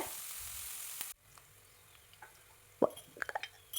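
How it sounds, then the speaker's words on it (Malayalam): Onion and green chili sautéing in oil for a Kerala-style brinjal thoran, a loud sizzle that cuts off, then quiet frying broken by a few sharp spoon scrapes and clinks against the pan. "അതൊന്ന് എണ്ണയിലിട്ട് നന്നായിട്ട് വഴറ്റുക"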